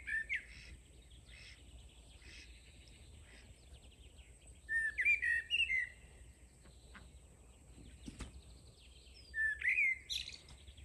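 A Eurasian blackbird sings in a quiet garden, giving several clear, fluting phrases in bursts with gaps of near silence between them. Faint background hiss sits underneath.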